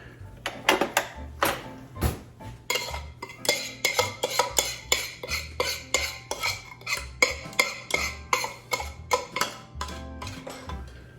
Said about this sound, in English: I'm going to transfer my mixture to this large bowl. I'm gonna scrape out, make sure you get every bit.